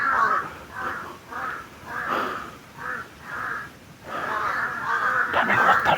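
A flock of video-game crows caws in repeated harsh bursts, loud and close, the calls running together toward the end, with a little breathy noise underneath.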